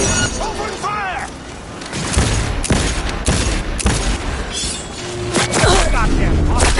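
Rapid gunfire crackles in Black Ops 3, loud overlapping bursts and single shots mixed with booms and shattering impacts, while voices shout over the fight.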